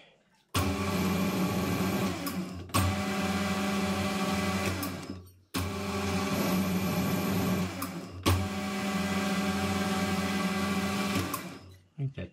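A metal lathe cuts a 1/2-20 national fine thread on a bolt, a steady whirring mechanical drone in four long passes separated by brief pauses, with a sharp tick at the start of some passes.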